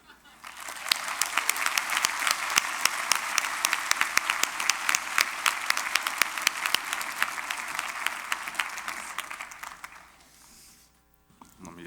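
A graduation audience applauds to welcome a speaker, with many hands clapping in a dense, sustained wave that holds for about ten seconds before fading. Faint crowd noise sits under the clapping.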